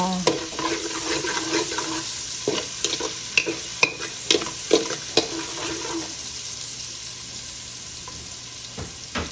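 Garlic, onion and ginger sautéing in a pan for arroz caldo, a steady sizzle with repeated scraping stir strokes and light clinks, close and alone.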